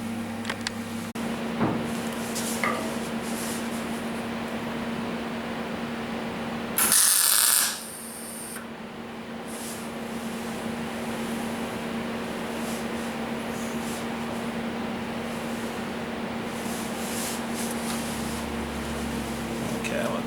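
A wire welder fires one short, loud burst of about a second while welding the quarter panel skin of a 1977 Camaro Z28, set against a steady shop hum.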